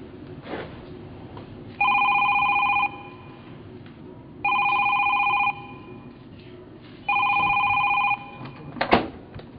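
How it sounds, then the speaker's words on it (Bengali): A telephone rings indoors in three evenly spaced electronic trilling bursts, each about a second long, loud and close, with a short sharp knock near the end and no talk. "বারবার ফোন আসতেছে।"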